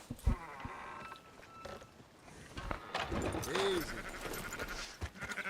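A sheep gives a short bleat near the middle, heard over a background of shuffling, thuds and movement among livestock, while a person speaks briefly nearby.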